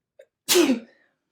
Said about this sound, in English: I needed you to pause because I needed to sneeze